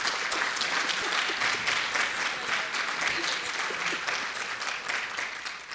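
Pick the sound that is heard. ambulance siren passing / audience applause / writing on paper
audience applause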